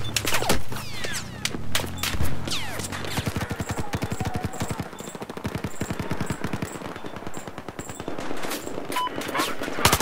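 Rapid automatic gunfire in Battlefield 4, with dense bursts of shots and sharp cracks running throughout, loud and close, with some voices mixed in.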